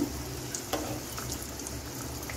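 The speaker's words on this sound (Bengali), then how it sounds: "এখন আমি ভেজে নিচ্ছি, ভেজে নিয়ে আপনাদের দেখাচ্ছি" Puri-style khaja pastries fry on low heat in oil, a continuous soft bubbling hiss with an occasional light clink, steady and close.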